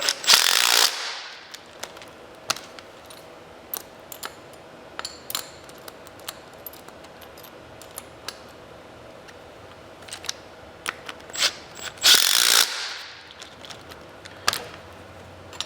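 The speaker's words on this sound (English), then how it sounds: "you can just tighten these down all the way right away" Bolts are tightened on the rear drive wheel of a StrikeForce powerchair, with a run of sharp metallic clicks and taps from a hand tool and two louder bursts of ratcheting, close and without talk.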